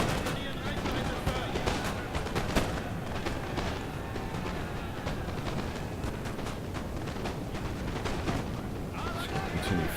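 Musket volleys crackle through a video game battle, dense irregular shots and booms rolling on continuously at mid distance, with a voice talking over the gunfire throughout.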